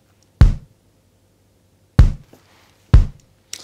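Three deep, punchy kick drum samples spaced unevenly apart, each with a short decaying tail, then a fourth beginning at the end; no other instruments.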